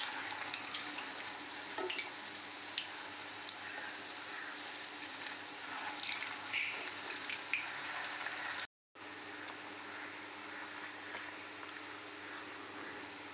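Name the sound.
rice and peanut snack frying in a pan, second side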